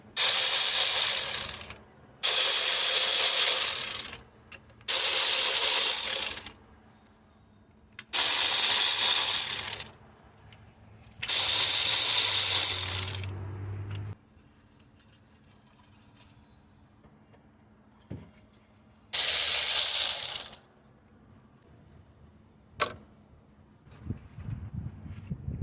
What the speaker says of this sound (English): I'm gonna be removing all the 10mm bolt for the valve cover here.